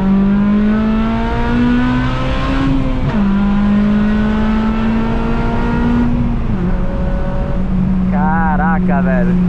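A car accelerates hard on a highway with a loud, close engine note that climbs steadily through the gears, dropping in pitch at each of two shifts before rising again, with a brief voice near the end.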